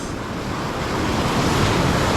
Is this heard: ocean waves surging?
yes